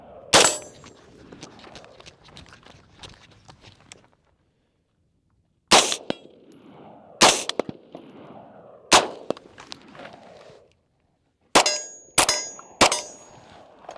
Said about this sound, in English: Gotta make up that rifle shot.